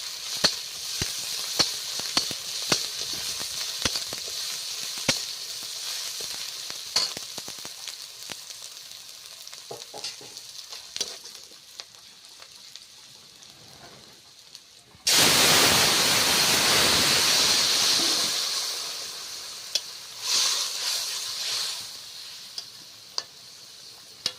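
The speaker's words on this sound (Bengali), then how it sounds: "পেঁয়াজ রসুনটা ভালোভাবে কষিয়ে তরকারিটা ঢেলে দেবো" Onion and garlic crackle softly in hot oil under light stirring clicks, then curry is poured in and a loud, hissing sizzle surges up, easing off before a second flare near the end.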